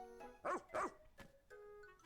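A pet pup's bark in Pikmin 4, two loud close yaps in quick succession followed by a softer third, set against a light game music bed.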